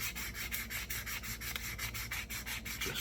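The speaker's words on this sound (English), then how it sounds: "just keep sanding down, further down on the stem" Sandpaper rubbed back and forth along a tobacco pipe stem during a restoration, a steady close-up rasping in rhythmic strokes roughly every third of a second, with no talking.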